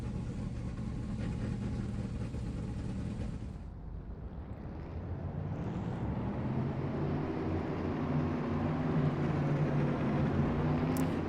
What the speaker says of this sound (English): now that we got the engines fired up